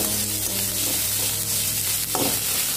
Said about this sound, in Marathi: आता हे अर्धा ते 1 मिनिट छान परतवून घेऊया.